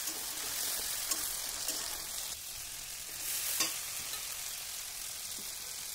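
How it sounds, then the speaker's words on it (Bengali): Chopped onion and tomato fry in a pan for an egg, mustard and poppy-seed dish, giving a steady, fairly quiet sizzle. Occasional scraping stirs cut through it, and no one speaks. "টমেটো কুচি দেওয়ার পরে আরও ভালো করে নেড়ে চেড়ে ওই টমেটোটাকে গলিয়ে নিতে হবে"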